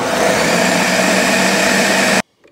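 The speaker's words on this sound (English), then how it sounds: "So I just finished blending up my fruits just like that" A blender whirs loud and steady, chopping fruit for a non-alcoholic black cake, then cuts off abruptly near the end, leaving near silence.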